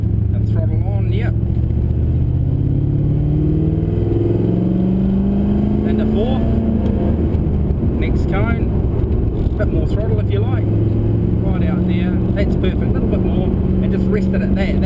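A loud V8 race car engine drones and rises in pitch as it accelerates on a hot lap at Pukekohe circuit, Auckland, with a person talking over it.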